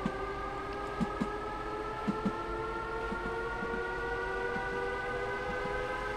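A train in the Train Sim World game, a rapid transit unit, runs at full power with a steady mechanical hum and layered tonal whine, punctuated by faint periodic clicks from the track.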